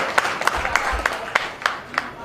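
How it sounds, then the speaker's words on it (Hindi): An audience at an Adiwasi Divas event claps to welcome a speaker. Scattered claps and a few sharper hand slaps run at a steady loose rhythm, moderately loud in a live hall. "इनका जोरदार तालियों से स्वागत करो भाई"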